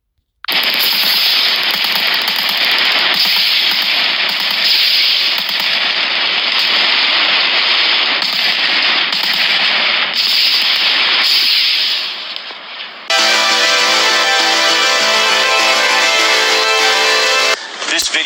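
Rapid gunfire at an outdoor firing range, sustained bursts of automatic and repeated shots crackling loudly and almost continuously, with a brief lull before a denser, harsher stretch of firing toward the end.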